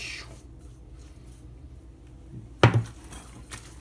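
Squirrel chorizo meat is mixed with a spice mixture in a bowl, giving soft, quiet handling sounds and then one sharp clink of a utensil against the bowl near the end.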